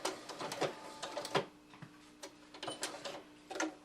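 A sewing machine back tacks while stitching an applique quilt block, giving short, uneven mechanical bursts of rapid stitching separated by brief pauses, close and clear with no talk.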